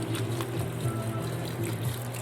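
Chicken broth pouring into a pot while cooking cabbage and squash, a steady close liquid gush with a gurgling low tone throughout.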